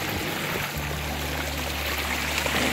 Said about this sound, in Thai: มาดูน้ำไหลออกด้วยกัน